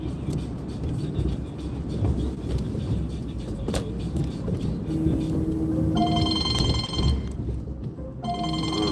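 A phone rings with an incoming call during a live stream from a car on the road, its repeating ring bursts cutting in over steady road and engine noise.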